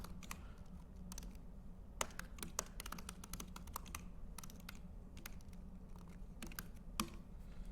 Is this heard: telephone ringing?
no